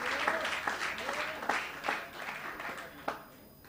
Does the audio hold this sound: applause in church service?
yes